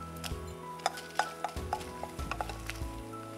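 Dried red chillies, five or six of them, stirred in a pan for pirandai podi, with metal clinks and scrapes of a utensil over a light sizzle, close and fairly quiet, no talk.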